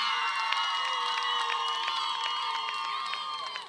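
Audience cheering and applause at a Bulgarian folk dance competition after a numbered contestant's turn, a dense steady crowd roar with high shouts and whoops running throughout, loud and continuous before tapering at the end.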